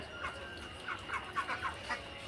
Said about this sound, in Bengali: আর হাঁসের খাবার দিলাম, তারা নিজেদের মতো খাবার খাচ্ছে।